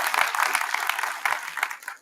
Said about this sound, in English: Can we get a big applause for that?